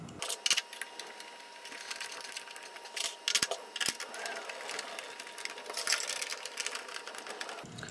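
Screws being driven into an Xbox console's LG GDR-8163B DVD drive during a retrofit: close, irregular clicks, scrapes and sharp ticks of the screwdriver and metal parts, with a few louder knocks.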